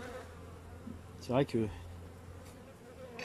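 Honeybees hum at a hive in a steady, faint buzzing drone, briefly interrupted midway by a short spoken phrase.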